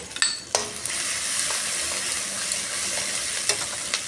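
Ground spice paste and chopped tomato frying in hot oil for an egg, potato and fenugreek curry, a steady close sizzle with a few sharp clinks of a utensil against the pan.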